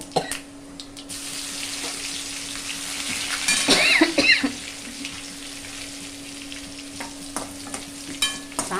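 Spices sizzling and crackling in hot oil for a sambar tempering, a steady frying hiss with a few stirring scrapes, close and fairly loud.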